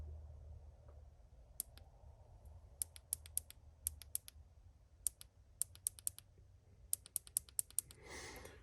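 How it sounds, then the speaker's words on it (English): Tactile mechanical keyboard switches with green LED backlighting click in short, irregular bursts as keys are pressed, sharp and close over a quiet room hum, with a brief rustle at the end. "So these are tactile switches."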